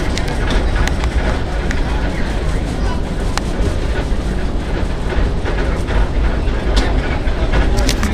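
A Six Flags Great America scenic railway train ride rolls on with a continuous bumpy rattle and clatter of the cars on the track, heard up close, with people talking over it.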